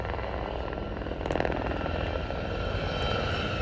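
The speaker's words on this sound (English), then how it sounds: "That helicopter is today being flown as Gazelle 3 by Richard Mitchell." A Gazelle helicopter flying in an air show display, its steady, dense rotor and engine roar filling the air at a fairly even loudness throughout, with a slight swell partway through.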